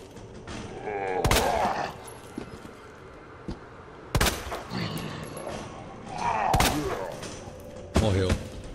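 Gunfire in the video game Resident Evil 2 Remake: three sharp shots spaced a few seconds apart, each followed by mechanical clanks and thuds, with a quiet game ambience between.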